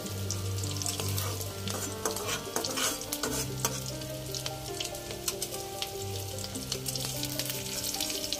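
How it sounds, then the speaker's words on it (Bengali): Rohu fish roe fritters frying in a pan, a steady close sizzle and crackle of hot oil that runs throughout, with scraping and stirring sounds from a utensil on the pan mixed in. "এগুলো আমি বড়া করে ভেজে তুলে নেব"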